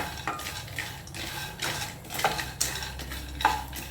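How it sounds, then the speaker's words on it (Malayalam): Peanuts are stirred in a hot pan for homemade peanut candy, with repeated scraping strokes of a utensil and a light sizzle, heard close up with no talking. "അതിലേക്ക് നമുക്ക് കപ്പലണ്ടി ഇടാം. അപ്പോൾ നല്ലവണ്ണം അതൊന്ന് ഇളക്കി കൊടുത്തുകൊണ്ടിരിക്കുക."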